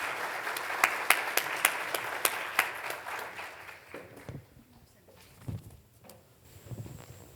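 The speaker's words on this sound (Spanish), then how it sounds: "Un aplauso, por favor." An audience at a health reform conference panel claps loudly for a few seconds, then the applause thins out into scattered claps and shuffling noises.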